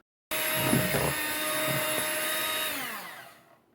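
An electric mixer whirs through no-bake strawberry pie filling, a steady high-pitched motor drone starting abruptly and running about three seconds with a few soft thumps before winding down and stopping.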